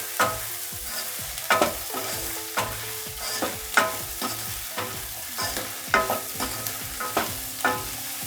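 Chili powder and salt stirred into an okra gravy in a pan for Telangana bendakaya pulusu, a low sizzle under a steady rhythm of spoon scrapes and knocks against the pan, close with no talk.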